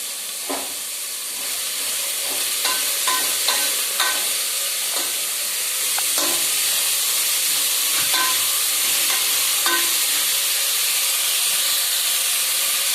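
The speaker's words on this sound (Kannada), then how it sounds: "ಒಂದು ಈರುಳ್ಳಿ ಹಾಕೊಂಡು ಫ್ರೈ ಮಾಡ್ಕೊತಾ ಇದ್ದೀನಿ" Onion frying in a pan for a dal masala gravy gives a steady close hiss and sizzle throughout, with scattered stirring scrapes and clicks over it.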